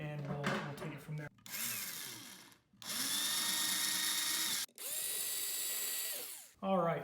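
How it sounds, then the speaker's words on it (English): A power drill fitted with a 5/32 bit bores holes into a garage wall for anchor inserts, running in two long loud whines of about two seconds each after a brief burst, with short pauses between. "we're going to take our drill. We got a 5/32 drill bit. We're just going to drill it deep enough"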